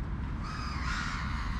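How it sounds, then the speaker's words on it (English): A flock of crows caws in a harsh, nasal call that rises and holds over steady outdoor street rumble, fairly close and loud, with no talking. "Like 10? 10 crows? 15 crows? Amazing."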